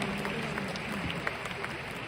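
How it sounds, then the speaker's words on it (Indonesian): A seminar audience gives a scattered round of applause, moderately distant claps pattering unevenly and fairly softly, with faint crowd murmur beneath. "Kita pantas beri tepuk tangan yang paling meriah untuk Riway Internasional."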